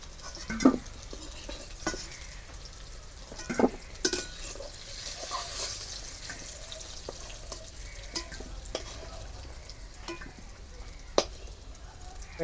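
Raw banana pieces frying in oil in a pan for a rustic katla fish curry with potato and pointed gourd, a soft continuous sizzle with occasional sharp utensil knocks and scrapes, fairly quiet, no talk.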